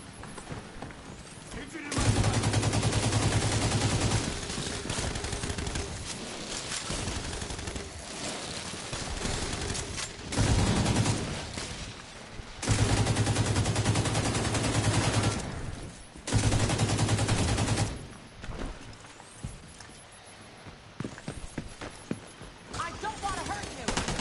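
Bursts of automatic gunfire in the shooter game The Division 2, loud volleys that start and stop in clusters with quieter gaps between them.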